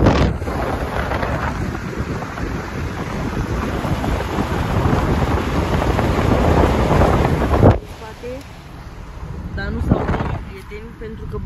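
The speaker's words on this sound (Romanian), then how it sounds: "Bate vântul. Este ger aici." Wind blows hard across a snowy ski slope in the Brasov mountains, a loud continuous roar buffeting the microphone, easing briefly near the end while a person speaks.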